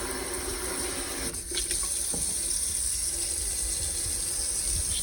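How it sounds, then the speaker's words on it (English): Water runs steadily from a newly installed Moen Georgene kitchen faucet into the sink, a close, constant splashing hiss with a brief clunk and click of the spray control partway through. "If I go ahead and hit this in the middle, I've got a broken up stream."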